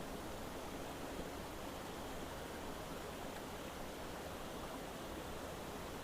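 Steady broadband rush of a waterfall in Dollar Glen, a constant wash of falling water heard at a moderate distance with no other sounds over it.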